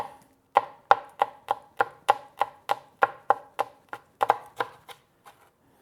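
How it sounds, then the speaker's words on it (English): A chili is chopped finely with a kitchen knife for Vietnamese beef pho, about fifteen crisp, close knife strikes on a board in a steady, quick rhythm that slows and fades near the end. "We just chop the chili finely."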